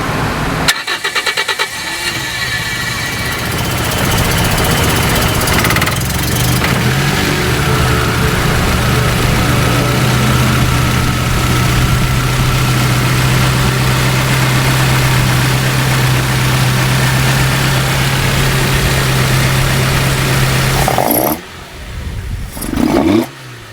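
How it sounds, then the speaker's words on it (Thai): A Toyota KE35 fitted with a 4A-GE engine idles steadily with a smooth, soft exhaust note, loud and close, holding a constant drone for about twenty seconds before cutting off near the end. "เสียงท่อเป็นยังไงบ้าง เสียงท่อก็คันนี้นุ่ม แล้วก็เวลากดก็จะมีแป้นหน่อยๆ"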